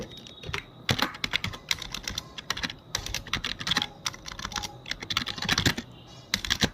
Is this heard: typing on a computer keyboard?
yes